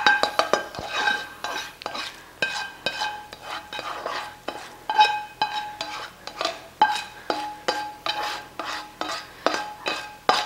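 Spring roll filling of fresh and hot cooked ingredients being stirred and mixed in a bowl, giving a steady run of scraping and clinking utensil strokes repeated at a brisk rhythm, close up, with no talking.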